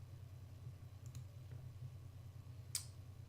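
Computer mouse clicks during a Synology DiskStation Manager setup, a couple of faint, sharp, isolated clicks over a steady low electrical hum in a quiet room.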